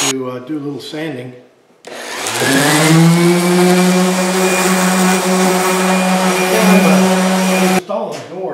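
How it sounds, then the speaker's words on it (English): Power sander working on a wood storage cabinet, a loud steady motor whine with a strong humming tone running for about six seconds, with a person talking briefly before and after. "to do a little sanding."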